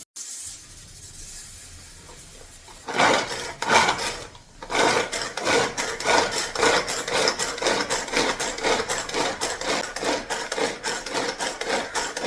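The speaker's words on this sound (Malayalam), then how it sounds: "നമ്മുടെ ബട്ടർഫ്ലൈയുടെ ചോപ്പറാണ് ഇത്. ഇഞ്ചി, പച്ചമുളക്, വെളുത്തുള്ളി, കറിവേപ്പില, ഇത്രയും സാധനങ്ങൾ ചോപ്പ് ചെയ്തെടുക്കണം" A Butterfly vegetable chopper chops ginger, green chilli, garlic and curry leaves, heard as a soft rub, then a fast, steady run of close rasping, whirring strokes that repeat rhythmically for several seconds with no talk.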